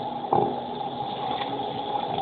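Excess water is poured out while cleaning up in a home kitchen as a soft cake is being made, a steady continuous trickling splash with a brief louder gush early on.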